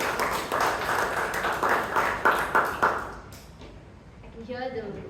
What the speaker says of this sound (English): I can hear the applause fizzle away.